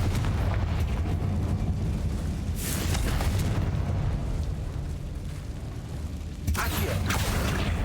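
Confringo explosive spell blasting inside a mine in Hogwarts Legacy, a sustained roaring rumble with two brighter bursts, the second near the end, loud and close with no talk.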